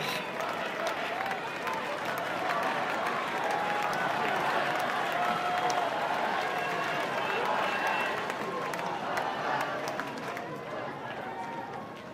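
A Roland Garros crowd applauds during the 2007 final between Federer and Nadal on the Paris clay. The steady, dense clapping fills the stadium throughout while a commentator speaks over it.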